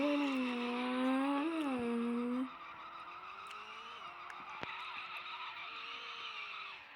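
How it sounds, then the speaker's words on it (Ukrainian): Car drifting with tires skidding in the video game GTA 2: a loud engine whine with sliding tire squeal for about two seconds, then a steadier, quieter engine drone continues. "Поняли, ми дрифтили."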